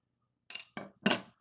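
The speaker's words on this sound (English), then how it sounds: "Nice hiss when I crack the bottle open" A bottle of Bumpy's Wicked Late Ta' Work New England IPA cracks open with three short, close, breathy bursts of hiss and clink over a quiet background.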